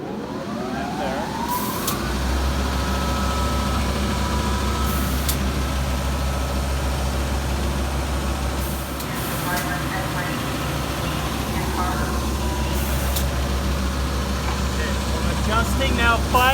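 A metal grinding machine starts up around two seconds in, then runs with a steady low hum and whine through the rest, joined by intermittent sharper scraping bursts, with someone talking over it.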